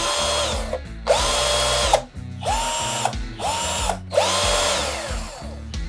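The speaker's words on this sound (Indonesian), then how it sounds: "Untuk 18 volt dia lebih kencang, jadi otomatis untuk tenaga pun dia lebih besar ya dibandingkan 14 volt." A Xenon CDID1845 18V cordless impact drill runs in five loud, close bursts, each spinning up with a rising whine and stopping briefly between runs.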